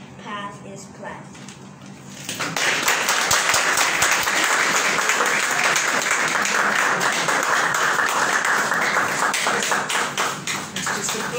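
After a few seconds of speech, an audience at a parish prayer breakfast breaks into loud, steady applause, many hands clapping continuously until near the end.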